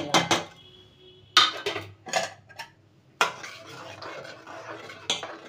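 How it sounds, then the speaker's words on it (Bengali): Ghee-coated rice is tipped from a metal dish into a pot of boiling milk for jaggery payesh, with close clattering clinks of metal utensils, a scraping pour and soft rustling between the knocks, and no talk. "এবার দুধের ভেতরে আমি ঘি মাখা চালগুলোকে ঢেলে দেবো।"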